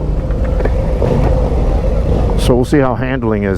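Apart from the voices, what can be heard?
Harley-Davidson Fat Bob motorcycle engine on throttle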